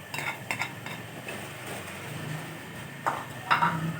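Liver (kaleji) stirred with oil in a pot, heard as intermittent spoon scrapes and clinks against the pot over a faint sizzle, close by, with no talking.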